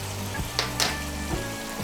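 Eggs frying in a malai curry sauce seasoned with garam masala over raised heat: a low, steady sizzle broken by a couple of sharp utensil scrapes and clinks, close and fairly quiet.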